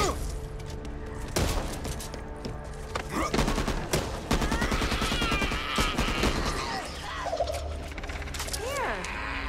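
Gunfire in the video game Back 4 Blood, a chaotic mix of rapid shots and bursts over game music and effects, with voices talking throughout.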